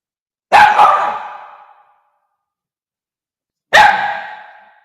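A dog lets out two loud, close single barks about three seconds apart, with silence in between.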